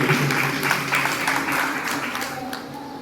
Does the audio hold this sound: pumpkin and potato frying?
no